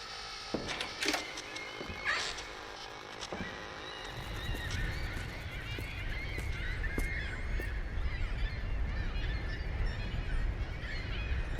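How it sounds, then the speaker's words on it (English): Geese honking in The Lightkeeper, a dense, loud flock of harsh, overlapping calls building into a continuous clamor with irregular sharp cries, no voices present. "The birds are mourning again."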